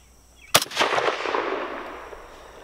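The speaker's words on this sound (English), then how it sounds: "That one was quite a bit high, but it fired just fine." A Norinco SKS rifle fires a single loud, close shot, a sharp crack followed by a long rolling echo that fades over about two seconds outdoors.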